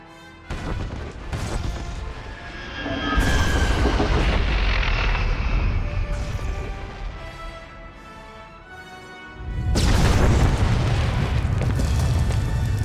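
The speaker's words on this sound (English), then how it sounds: "Proceed with the detonation. Boom." A huge explosion as the Gauntlet is detonated in the Star Wars: The Old Republic game: loud booming blasts roll on with a deep, sustained rumble, easing briefly before a second massive boom swells up near the end.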